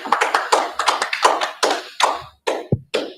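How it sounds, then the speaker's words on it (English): Scattered hand claps from a small audience greeting the mayoral candidates at a council election event, a sparse, uneven patter of individual claps rather than a full ovation, fairly close. "I'd like to give a big round of applause to our candidates."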